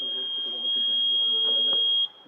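A student-built vibration alarm sounds its buzzer, a loud, steady high-pitched tone held for about two seconds before cutting off, with faint voices beneath it.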